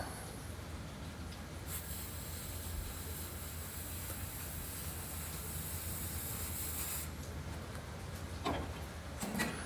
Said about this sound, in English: I couldn't get in that little corner right there, so I got the torch out.